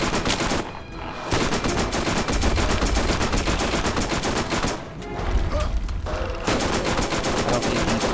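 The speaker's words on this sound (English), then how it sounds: "we're gonna switch to an SMG here just to finish off his eye" Dense, rapid SMG fire rattles almost continuously in a video game, broken by two short pauses before the loud bursts resume.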